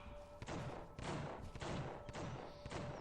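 Correctional officers fire guns in The Suffering, a series of heavy, evenly spaced thudding shots about every half second, moderately loud and near.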